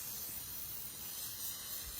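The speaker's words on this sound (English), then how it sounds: "So all you do is spray." A continuous soft hiss as black aerosol spray paint is sprayed over lace, even and quiet throughout with no voices.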